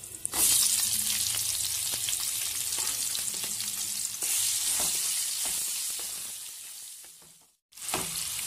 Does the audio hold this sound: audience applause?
no